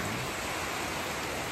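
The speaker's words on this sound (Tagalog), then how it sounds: "So, ngayon po, ang lakas po ng ulan" Heavy rain pours down, a dense, loud, unbroken hiss with no pauses or other sounds.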